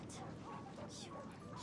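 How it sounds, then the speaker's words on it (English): Energetic sled dogs playing in the snow in the video game Reverse 1999 give faint yips and barks, blended into a dense game soundscape with a voice speaking. "They're energetic sled dogs."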